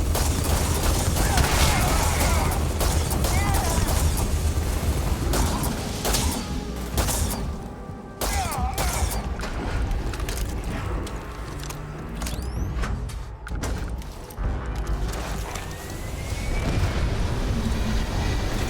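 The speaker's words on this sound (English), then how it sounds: "Oh, have a grenade while you're at it." A grenade goes off in a video game amid dense rumbling booms and bursts of gunfire, loud and continuous with brief dips, while a voice talks over it.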